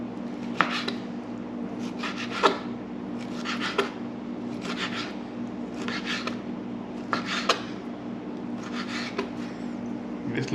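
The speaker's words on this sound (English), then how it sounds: "cut that fish up" A knife slicing through a chilled snook fillet for ceviche, giving soft rasping strokes in a steady rhythm over a low hum, close and fairly quiet with no talk.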